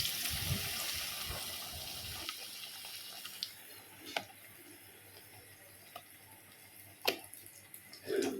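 Eggplant slices dipped in gram-flour batter frying in hot oil as beguni: a broad hiss at first that settles into a quieter sizzle, with occasional sharp pops and crackles.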